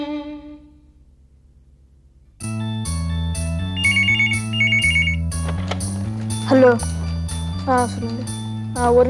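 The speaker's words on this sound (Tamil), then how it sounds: "ஸ்ரீனா சார் உங்களுக்கு ஃபோன்" A telephone ringtone plays after a quiet start, a repeating melodic electronic jingle that rings loudly and steadily with layered tones.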